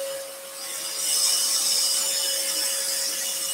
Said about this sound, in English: So extractor back on